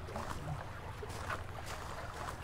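Boat cruising across open sea in a fishing simulation game, a steady broadband wash of water and motor rumble that continues evenly throughout with no talk.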